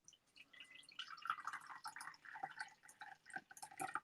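Yorkshire tea poured from a teapot into a cup, a soft trickling and splashing stream with small drips, quiet and close.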